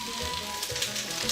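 Potatoes sizzle steadily in a hot pan while they par-cook for aloo gobi, a continuous close frying hiss with faint stirring.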